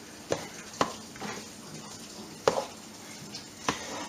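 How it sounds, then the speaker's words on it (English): Chicken spaghetti ingredients with added chicken stirred in a pot: a series of sharp utensil scrapes and knocks at uneven intervals over a soft background, close and moderately loud, with no talking. "Put about half in there and go ahead and stir that up a little bit."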